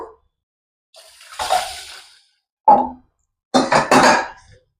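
Ration rice is washed with water in a vessel, making a few separate bursts of sloshing and splashing, loud and close. The last burst comes as two quick swishes, with silence between each round.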